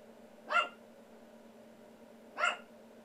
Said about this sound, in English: I had a retarded dog barking in the background